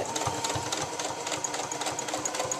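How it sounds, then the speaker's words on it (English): A sewing machine runs steadily, stitching a lining onto a dress bodice, with a fast, even needle rhythm that stays close and fairly loud throughout, and no voices over it. "Keep sewing. Try not to bunch it."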